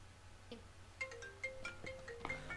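A phone rings inside the Arma 3 video game during an Altis Life role-play session, giving a series of short electronic tonal chirps and melodic notes that repeat irregularly over a steady low background hum, fairly faint and with no voices.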